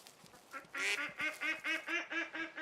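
Ducks in the Alaska Aurora Shores area of the hunting game Way of the Hunter quack in a steady run of about eight loud, evenly spaced calls, close by, with no voices over them.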